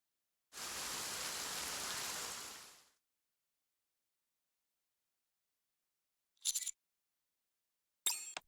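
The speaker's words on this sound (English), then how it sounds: "Should we take shelter from the rain?" Rain falls in the video game Goddess of Victory: NIKKE as a loud, even hiss for about two seconds that then cuts off, followed by silence and two brief sharp bursts.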